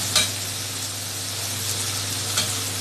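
Vegetables for pav bhaji go into melted butter in a pan and sizzle with a constant, close, bright hiss. Two short metallic clicks come from a utensil near the start and end.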